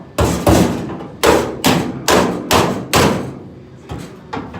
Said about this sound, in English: I can hammer it out.